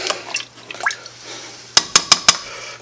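Chicken adobo ingredients for a coconut milk version are stirred and combined in a pot, with soft clattering and sloshing, then four sharp, evenly spaced utensil knocks against the pot, close and clear.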